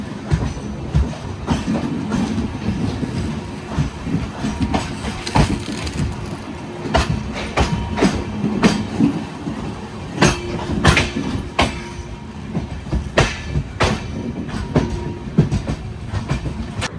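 An Amrit Bharat Express train runs into Ernakulam, with steady rolling rumble and repeated sharp clickety-clack wheel beats over rail joints, heard close from inside the coach and continuous throughout.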